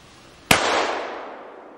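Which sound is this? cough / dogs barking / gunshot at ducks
gunshot at ducks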